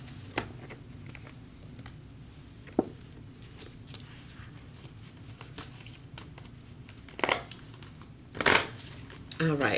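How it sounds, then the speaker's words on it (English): Energy cards being shuffled for a tarot reading, a soft ongoing patter of card rustles with a few sharper snaps and flicks near the end, fairly quiet and close. "let's pull some energy cards for you guys"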